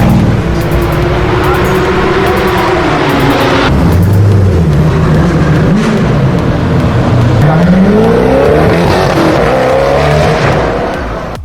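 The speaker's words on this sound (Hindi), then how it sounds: "नंबर 3 पर ही है कोनिग्सेग अगेरा RS" Koenigsegg Agera RS sports car engine roaring loudly and continuously, with rising and falling revs as the car accelerates and passes, steady high volume throughout with a slight fade at the end.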